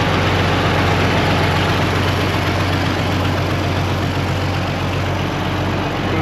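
A big IH four-wheel-drive tractor idles close by, its engine loud, steady and deep with an even throb; the exhaust manifold leaks gases. No voices.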